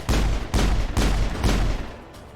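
Pistol fire in the sci-fi shooter game Mass Effect: four sharp, evenly spaced shots about half a second apart, loud and close, each with a short ringing tail, no talking.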